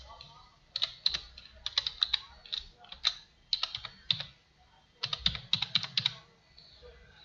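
Login credentials typed on a computer keyboard, close crisp key clicks arriving in quick bursts separated by short pauses, with no voices.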